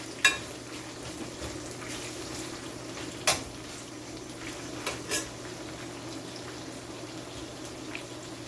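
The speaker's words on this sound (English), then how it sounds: "So this is frying up nicely." Saltfish frying in a pan for ackee and saltfish gives a steady, soft sizzle, broken by a few sharp clinks of a utensil against the pan.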